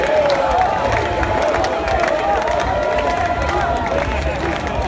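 A large festival crowd at the Faine Misto festival applauds and cheers a marriage proposal, a dense, steady roar of clapping and shouting voices that holds without pause from start to finish.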